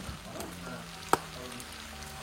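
Garlic, ginger and onion fry in a pan for rougail, giving a steady close sizzle with a single sharp click partway through.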